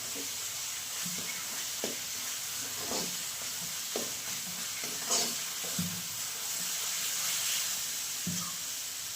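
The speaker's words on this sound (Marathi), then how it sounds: "आणि आता हे चांगले एक मिनिटभर परतून घेते" Spice paste of black chili masala and onion sautéing in a pan for soybean curry, with a continuous hissing sizzle broken by regular scraping strokes of a stirring spoon.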